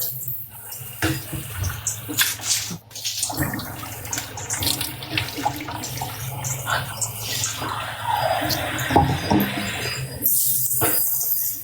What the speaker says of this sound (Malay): Kaide bukan main laju kau bubuh air